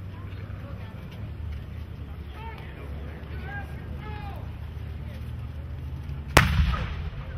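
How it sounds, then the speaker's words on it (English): At a Memorial Day event at Camp Nelson, murmuring voices and a low rumble give way to a single loud, booming blast of a cannon near the end, trailing off briefly. "Cannon."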